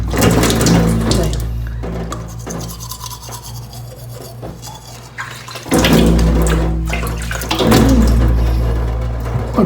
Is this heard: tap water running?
yes